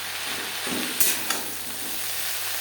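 Radish greens being stirred into half-cooked eggplant in a frying pan, a steady soft sizzle with a couple of sharp scraping clacks near the middle, no voices.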